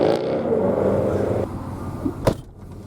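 A GMC Syclone pickup truck engine hums steadily while driving, then the sound drops as it shifts or eases off, followed by a brief sharp clunk.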